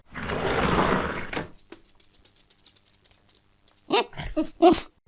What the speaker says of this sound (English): He made his way over to Kondo-san and barked at him.